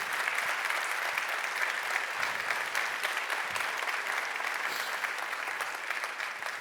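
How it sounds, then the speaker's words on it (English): An audience gives sustained, dense applause for the closing keynote speaker at DL Summit 2024, a steady, even wash of many hands clapping throughout without audible talk. "Big applause for Ryan."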